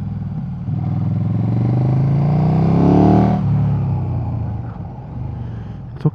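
A KTM 1290 Super Duke engine rising in pitch as it accelerates, swelling to a loud peak then easing off, heard close with a steady rumble.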